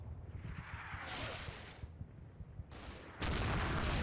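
Gunfire from the World War II tactics game Combat Mission Red Thunder, with bursts of rifle and machine-gun fire in a close-quarters street fight, some rattling volleys and a sustained loud barrage at the end, no talking.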